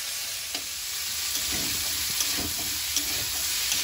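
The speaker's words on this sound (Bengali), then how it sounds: "ফুলকপি আলুটা ভাজা হয়েছে," Cauliflower and potato fry in a pan, giving a continuous close sizzle with faint stirring scrapes throughout, and no voices.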